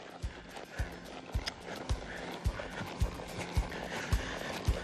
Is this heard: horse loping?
yes